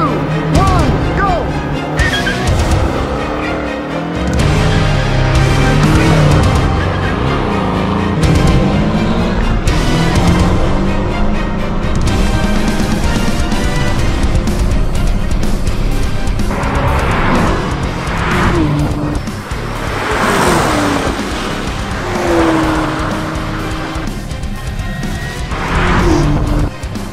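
A Porsche Cayman or Chevy Camaro run from 0 to 100 and back to 0, engine roaring loudly as it climbs through gears, then a heavy braking phase near the end, with people talking in the car throughout.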